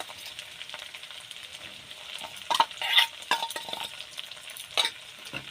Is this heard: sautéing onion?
yes